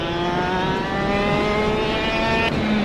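A kart engine in the KartKraft racing game drones steadily and loudly, its buzzing tone holding high revs with small pitch shifts and a brief change near the end, no voices over it.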